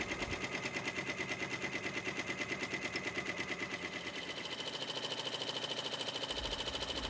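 A Babylock multineedle embroidery machine stitches with a Versatile Magnetic Frame, producing a fast, steady mechanical rattle and hum that runs continuously at a moderate level.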